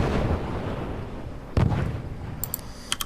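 Mortar fire in the video game Forts, booming, rumbling blasts with one sharp impact partway through and a few faint high tones near the end, with no speech.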